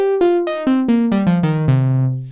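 The Alesis Andromeda analog synthesizer's default program, with sawtooth and triangle waves on both oscillators, plays a quick descending run of bright, buzzy notes, each attack crisp and the last note held.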